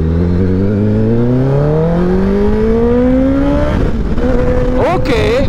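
A Kawasaki ZX10R 1000cc sport bike, accident-damaged and fitted with an exhaust baffle, revs hard on the road. The loud engine note climbs steadily through the rev range, then drops and blips again near the end.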